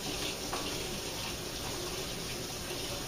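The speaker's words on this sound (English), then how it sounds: "Let me rinse my hands real quick." A kitchen tap runs steadily into the sink as hands are rinsed after handling raw egg bread dough, a constant close rush of water with no talk over it.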